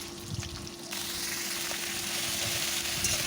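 Chopped onion, chili and ground spice paste sizzle steadily in hot oil for a Bengali drumstick and small fish curry, a continuous close frying hiss that swells slightly after the first second, with no talking.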